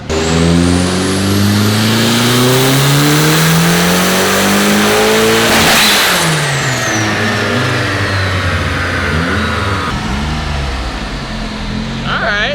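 A car engine revs hard on a dynamometer during a tuning pull, its pitch climbing steadily, then shifting and winding down toward the end; the sound is loud, close and continuous, with voices faintly in the background.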